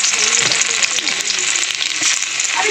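Minced garlic frying in hot oil in a wok, giving a close, dense sizzle that crackles steadily throughout with light stirring underneath.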